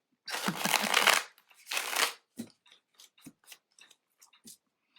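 Tarot cards are riffle-shuffled in two quick close bursts, followed by a series of softer, sparse taps and clicks as the deck is squared and handled.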